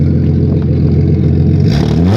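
Loud, close car engine idling with a rough clatter, then rising sharply in a single rev near the end, with no voice over it.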